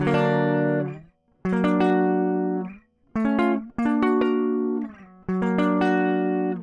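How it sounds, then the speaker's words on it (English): Electric guitar strums a series of sustained chords, each ringing out before the next, about five in a row with brief gaps. "inside chords are going to sound like this."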